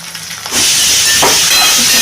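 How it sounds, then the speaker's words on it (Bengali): Chopped chilli, tomato, capsicum, onion, beans and carrot hit a hot pan for chicken fried rice, bursting into a loud, steady sizzle and hiss that starts abruptly after a quiet moment and holds to the end. "সবজিগুলো ভাজা ভাজা হয়ে এসেছে।"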